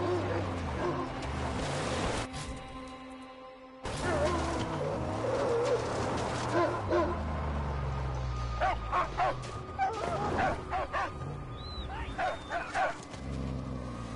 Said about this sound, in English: Good dog.